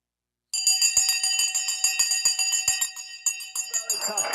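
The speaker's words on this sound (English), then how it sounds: "The bell is about to go any second now." Stock market opening bell ringing: a loud, sustained metallic clanging with rapid repeated strikes that starts abruptly and continues throughout.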